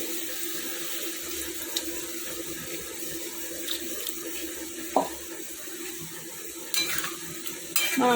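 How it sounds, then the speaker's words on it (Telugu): Boiled milk is poured into a simmering ridge gourd curry in a pan, making a steady close liquid pour over a low sizzle, with a few light utensil knocks and no talking. "పొట్లకాయ మగ్గింది కదండి, ఇది మనం దీంట్లో కాచిన పాలు పోస్తున్నాను"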